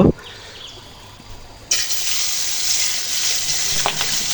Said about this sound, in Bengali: বড় মাছগুলো আমি কড়া করে ভাজবো না হালকা করে ভেজে নেব